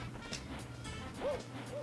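Owl character hooting in Super Mario 64 at Whomp's Fortress, a short warbling call over steady game music, with a second brief hoot near the end.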